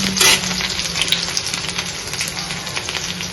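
Oil sizzling and frying in a pan as ingredients cook for a vegetable oats breakfast, a steady close crackle with occasional stirring.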